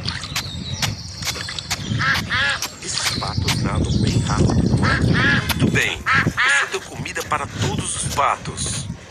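Cartoonish quacking from ducks in a children's video game, many rapid nasal calls in quick succession over background game music and sound effects.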